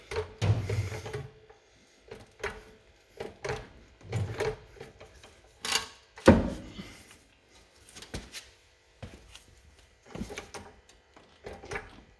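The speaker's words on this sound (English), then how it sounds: "let's try jacking it up" Front end of a 1975 Corvette Stingray being raised on a car jack during ball joint replacement, heard as a series of short mechanical clunks and ratcheting knocks spaced irregularly, moderately loud and close, with quiet gaps between strokes.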